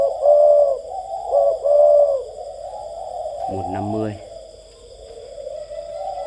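Parent spotted doves coo in a close, loud rhythmic series of soft calls, followed by a brief voice or rustle and a steady high background hum.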